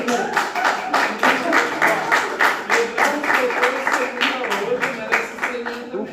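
Students in a classroom Bible lesson clap for a classmate named Pedro, a fairly rhythmic, moderately loud patter of hands that continues steadily throughout, with voices mixed in.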